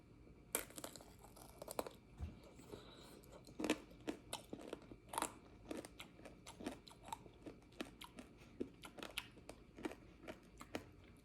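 Biting into candied grape tanghulu with a hard sugar shell, crisp cracks followed by a steady run of close, moist crunching and chewing.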